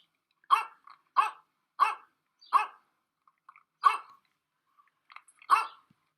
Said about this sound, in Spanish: Mira lo enojado que está porque no se puede comer la comida del otro perro.